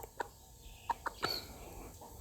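A five-month-old young rooster gives four short, sharp clucks, close by and spaced irregularly over a quiet background.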